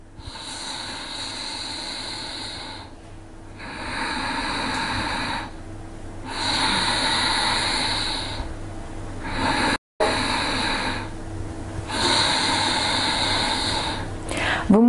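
Ujjayi breathing, a slow hissing breath drawn through a narrowed throat, repeating in long even inhales and exhales, close and steady with brief pauses between cycles.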